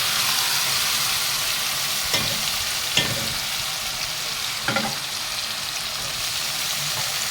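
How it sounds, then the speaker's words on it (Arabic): Freekeh grain fries in ghee with a loud, continuous sizzle close up, broken by a few scraping stirs of a spoon. "ونحمر الفريك بتاعنا"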